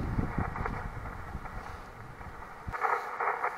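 Wind gusts buffet the microphone on a Utah mountain summit near Kings Peak, a rough low rumble that swells and surges in uneven bursts, with no voices.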